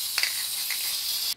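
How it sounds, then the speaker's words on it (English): A continuous aerosol spray of True Strip degreaser from Duracoat hisses steadily onto an AR-style rifle upper, close and fairly loud for about a second and a half with no talk. "I'm just going to spray it on."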